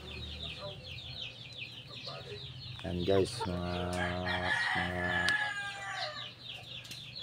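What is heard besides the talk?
chickens clucking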